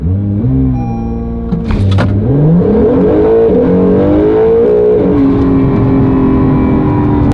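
A K-swapped Acura NSX running on ethanol, its engine loud and close, revving through rising and shifting pitches with a sharp burst midway, then settling into a steady high drone.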